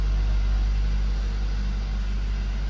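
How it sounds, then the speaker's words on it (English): A Kia Seltos 1.6T-GDI engine idles while the vehicle sits stationary, giving a steady, low, even hum throughout with no other sounds on top. "Okay, so I just start the engine."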